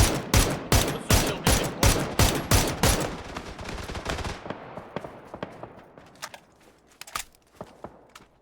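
Gunfire in PUBG opens as a rapid, loud string of shots for about three seconds, then thins into fainter, scattered pops and light clicking that grow sparser and quieter, with no voices.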